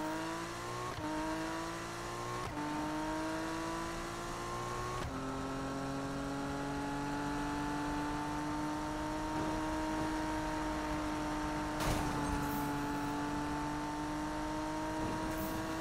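Toyota Supra engine in Need for Speed revving hard through rising gear sweeps, repeatedly climbing and bouncing off the rev limiter, with a sharp impact-like burst near the end; loud, steady engine drone with no voices.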